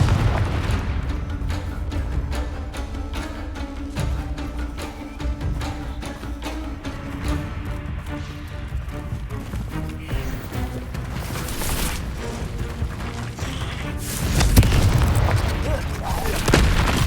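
Booming magical blasts from the Confringo spell in Hogwarts Legacy rumble loud and close, with heavier crashes near the end and a voice talking over the action.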